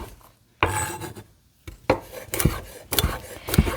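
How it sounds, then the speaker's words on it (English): A knife chops asparagus on a cutting board in about six distinct, close, irregularly spaced strikes, each with a crisp thud and a short scrape, separated by brief quiet gaps. "So I'm going to just chop these up."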